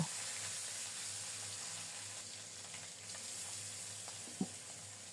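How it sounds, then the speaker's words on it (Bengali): Hot mustard oil sizzles steadily in a pan with whole cumin seeds, a continuous close frying hiss with one brief clack near the end. "ফোড়নটা রেডি হলে মাখানো মাছগুলো প্রথমে দিয়ে দেব।"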